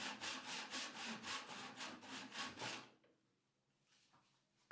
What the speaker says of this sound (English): sawed down using a tenon saw to my desired depth